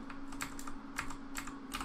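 Arrow keys on a computer keyboard are pressed in a string of soft, quick clicks, several taps in irregular rhythm over a steady low hum, close by and with no talking.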